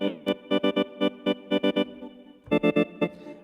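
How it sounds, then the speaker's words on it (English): Repeated short synth or guitar stabs through a flanger effect, about a dozen in uneven bursts, each with a sweeping, whooshing modulated tone, loud and alone. "And also this flanger."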